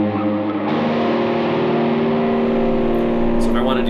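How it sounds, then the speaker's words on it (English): Electric guitar through a Mooer R7 reverb pedal stacked with amp reverb, a loud, sustained distorted chord that rings out steadily for about four seconds with a thick, spacious tail. "It's giving me a little bit of a heavier reverb because I have some reverb coming from the amp."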